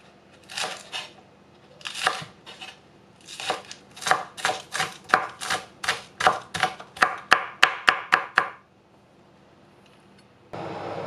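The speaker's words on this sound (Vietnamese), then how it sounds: "Hành lá mình cắt một mớ nhuyễn, còn một mớ thì mình cắt khoảng 3 cm để chút mình nêm." Green onions chopped finely with a knife on a board, a few separate cuts followed by a fast run of crisp, close knocks that speeds up before stopping, with no speech.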